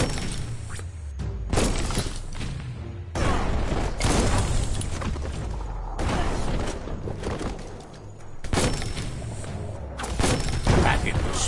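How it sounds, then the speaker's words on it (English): Bomb lobber explosions in the Biomutant video game, several loud shattering booms in quick succession over steady game noise, with breaking debris after each blast. "That's a bomb lobber."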